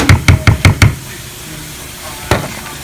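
Spatula knocked hard against a surface at a barbecue to clear off food: five quick, loud knocks in a steady rhythm, a pause, then one more knock after a stretch of quiet.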